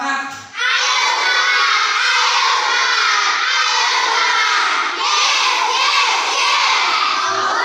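Schoolchildren in a classroom loudly shout the 'tepuk semangat' chant together, a rhythmic group call that goes on for several seconds after a brief pause.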